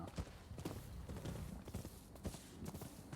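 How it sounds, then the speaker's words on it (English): Horse hooves clip-clopping in the video game Rise of the Ronin, a steady walking rhythm of soft thuds repeating over a low ambient rumble, moderately close with no voices. "It might be this horse actually."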